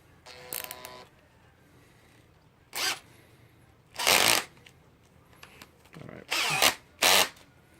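A power drill whirs in several short bursts separated by pauses, loud and close, with rattling in between, while working on a GY6 scooter's handlebar controls.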